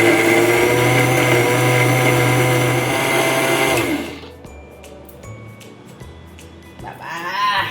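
A kitchen blender grinds green chillies with a little water into paste, running loud and steady with a droning motor whine, then cuts off abruptly, leaving quiet clatter before a brief restart near the end.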